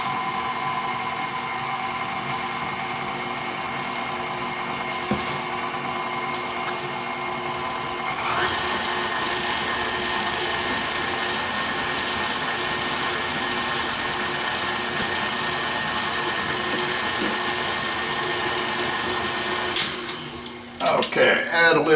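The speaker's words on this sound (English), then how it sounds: "put this over on the KitchenAid, and mix it thoroughly" KitchenAid stand mixer mixing bread dough, its motor whining steadily and loudly up close, the pitch shifting slightly as it settles in, then a clatter as it stops near the end.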